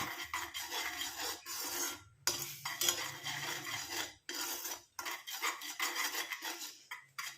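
A herbal hair dye mixture being stirred in a bowl with a utensil, making a continuous close scraping and rasping in steady strokes broken by short pauses.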